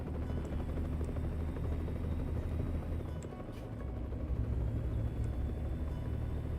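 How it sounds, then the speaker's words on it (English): A helicopter hovers nearby above a road with overturned vehicles, its rotor and engine producing a steady, loud, throbbing rumble that continues throughout with no voices. "They just have a chopper just hanging out with them."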